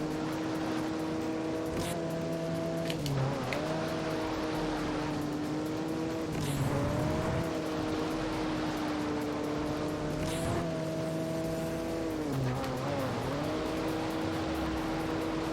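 A racing car in the game Juiced holds a high engine whine that repeatedly drops and climbs through gear shifts and corners, steady and up front over faint background music.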